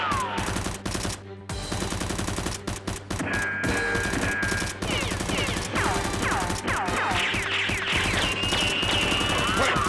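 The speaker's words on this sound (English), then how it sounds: "Tony shoots towards Dr. Lee and the robbers." Toy Nerf guns fire in rapid bursts during a staged robbery shootout. Sharp, loud clicking and thumping shots repeat densely throughout, mixed with whirring and whistling toy-blaster effects.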